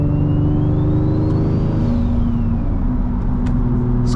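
Single-turbo Infiniti G35 pulling away on a cool night, a loud, close engine drone that rises in pitch as it accelerates through the gears, with a brief shift dip and steady exhaust rumble.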